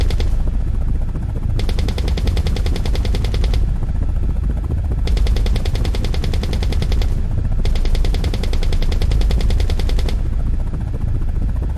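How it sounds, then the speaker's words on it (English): Loud bursts of helicopter machine-gun fire in an attack helicopter video game, three long rapid volleys over a constant rotor drone, aimed at tanks. "Freelook mode also allows to aim the gun, so I aim and open fire."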